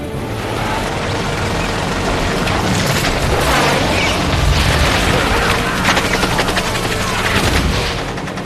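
An Apache helicopter firing its guns, dense rapid bursts of gunfire and booms layered over a continuous roar, loud and close, with heavier rattling volleys toward the middle and end.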